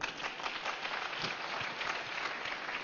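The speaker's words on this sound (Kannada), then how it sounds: "ಚಪ್ಪಾಳೆ ತಟ್ಟೋಣ." An audience claps at a spiritual gathering, giving a steady, dense patter of many hands that sounds somewhat muffled and distant and holds an even level throughout.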